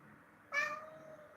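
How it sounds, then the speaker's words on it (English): A cat gives a single clear meow at its feeding station in a home kitchen, close and fairly loud against a quiet room. "Meow."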